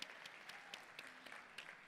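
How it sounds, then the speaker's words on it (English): Audience applause at the unveiling of The Westpark luxury residences in Mumbai, a brief patter of clapping from a modest crowd, fairly faint and distant. "please, once again, a very, very big applause for Mr. Ori. Please, put your hands together."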